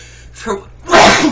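A single loud sneeze bursts out near the mic after a short preceding breath, with a person talking just before it.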